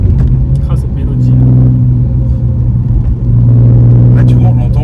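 An Alfa Romeo 147 GTA's V6 engine and exhaust rumble loudly from inside the car, a deep steady drone that swells as it revs, with people talking over it.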